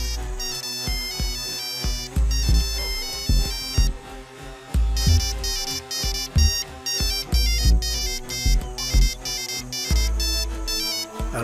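A phone ringtone plays loudly at night, a bright repeating electronic melody in choppy bursts with short gaps, filling the room with no one speaking.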